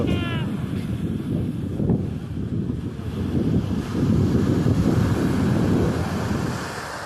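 Sea waves roll in at the Digha estuary where the sea meets the Ganges, a broad continuous wash of surf heard from a moving vantage, heavy with wind buffeting the microphone and swelling louder midway.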